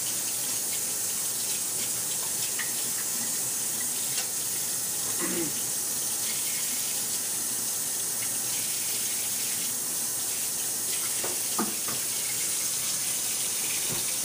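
Steady rushing of a hot tap running into a sink, a constant hiss that continues throughout, with occasional faint clinks and rustles.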